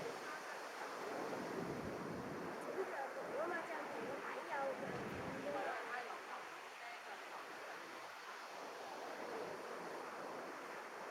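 Big ocean waves roll in at Big Wave Bay, a continuous broad roar of surf mixed with gusty wind noise, steady and enveloping from start to finish.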